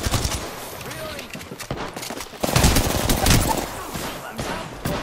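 Rapid bursts of gunfire from an Apex Legends match ring out loud and close, volleys overlapping with cracks and rattles that swell toward the middle and stay dense to the end.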